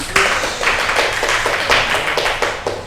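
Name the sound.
classroom applause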